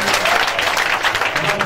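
Church congregation applauding and cheering to acclaim the Lord, a dense, steady wash of clapping from many hands filling the room, loud and sustained with crowd voices mixed in.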